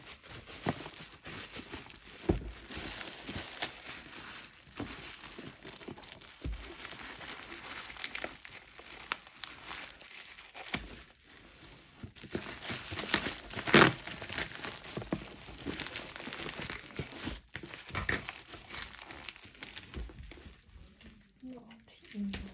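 Plastic packaging on a prize parcel being opened, with intermittent close crinkling and crumpling in bursts throughout, under quiet talk.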